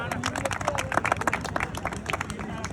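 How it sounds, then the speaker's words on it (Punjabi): Crowd clapping at a youth volleyball league event for under-19 players, a scattered burst of applause from a gathered audience on the ground, mixed with voices and background chatter. "ਇੱਕ ਵਾਰ ਜ਼ੋਰਦਾਰ ਤਾੜੀਆਂ"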